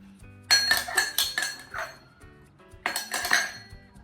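A metal spoon clinks against a pot while cooking in a home kitchen, giving two bright clusters of rapid clinks and taps separated by a short quieter gap, close and clear.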